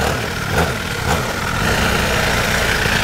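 A mini motorcycle engine runs loud and close, a rough, steady mechanical drone with a slight swell in revs, no voices over it.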